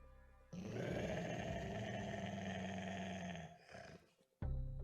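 A monster hound the size of a horse, trained to kill, growls in the video game UnMetal: a loud, sustained rumbling snarl for about three seconds, cut off, then a short burst of growl resumes.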